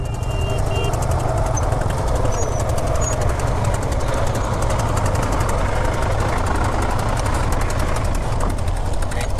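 A ferry's engine idling at a river ferry ghat on the Ghorautra River, a loud, steady low rumble with constant vibration, close by and unbroken throughout.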